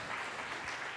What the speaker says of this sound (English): Let's give one giant round of applause again for Christian